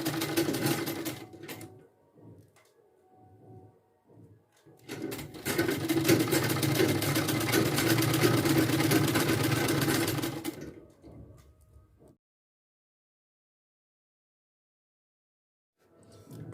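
Electric sewing machine stitching lace onto a sleeve lining: short stop-start bursts, then a sustained steady whirring run of several seconds, close and alone, ending in silence.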